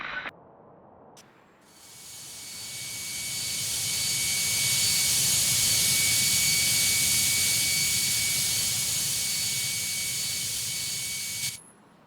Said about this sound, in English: Runway 29 right, cleared for immediate takeoff.